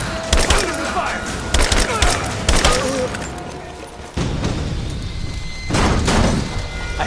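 Gunfire volley in Rise of the Tomb Raider: loud bursts of rapid shots in a few clusters, then a pause, then another heavy burst of firing near the end.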